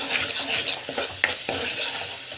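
Tomato thokku with salt sautéing in a pan, a steady bright sizzle with a few sharp spoon scrapes and taps against the pan, close and fairly loud.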